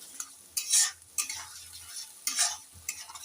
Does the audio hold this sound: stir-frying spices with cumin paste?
yes